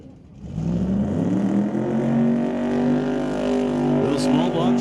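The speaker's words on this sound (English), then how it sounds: "Little small block Chevy under the hood. Fed with a couple of turbos." A twin-turbo small-block Chevy drag car at a raceway launching, a loud rising engine roar that climbs in pitch over a few seconds, with an announcer talking over it.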